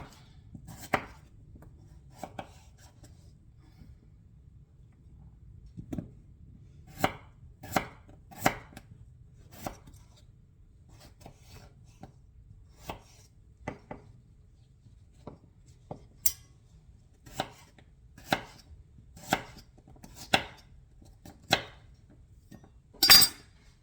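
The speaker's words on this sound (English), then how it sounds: "I'm going to finish chopping these up" A knife chops potatoes steadily on a cutting board, sharp distinct strokes spaced out irregularly, close and clear in an otherwise quiet room.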